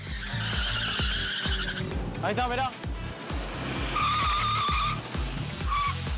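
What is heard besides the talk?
modified Fiat 147 car skidding and speeding on road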